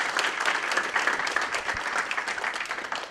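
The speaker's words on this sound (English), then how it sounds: "big round of applause" Sustained applause from a community breakfast audience, dense and steady throughout, with many hands clapping at once at moderate distance.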